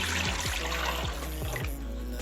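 Water pours steadily into a cooking pot, about 1.5 litres for making dal, with a full, continuous gush and rising bubbly splashing throughout, close and alone.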